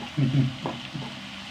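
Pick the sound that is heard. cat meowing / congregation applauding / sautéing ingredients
sautéing ingredients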